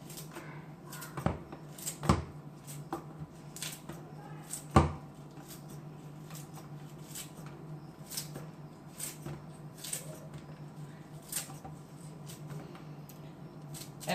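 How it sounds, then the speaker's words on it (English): Endive and kale leaves are chopped with a knife, giving a series of sharp, close cutting taps spread irregularly over a quiet background. "I find it very easy just to chop up the endive and kale with this"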